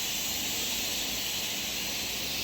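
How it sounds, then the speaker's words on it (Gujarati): A pressure cooker of boiled chickpeas vents steam in a steady, unbroken hiss, loud and near, holding one even tone for the whole stretch with no voices. "કુકરમાંથી હવા કાઢવામાં આવી રહી છે."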